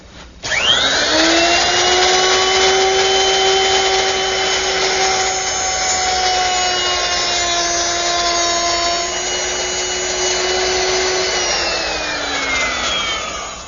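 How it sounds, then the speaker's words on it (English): A plunge router fitted with a 1/4-inch round nose bit runs along a guide fence, cutting a groove into a wooden shelf board, giving a loud, steady high-pitched whine that holds for about twelve seconds before spinning down. "easy to make that groove using a router with a 1/4-inch round nose bit and a guide fence"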